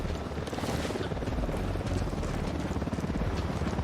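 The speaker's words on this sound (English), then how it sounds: "Hit the dirt, helicopter." A video game helicopter flies nearby, its rotor beating in a rapid, even rhythm beneath a broad wash of engine noise.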